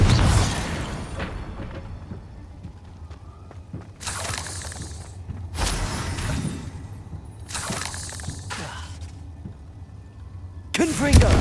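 Repeated fiery spell blasts in the Hogwarts Legacy video game, several loud bursts of crackling, shattering noise arriving in waves against a low rumble, with a voice shouting spell names in between.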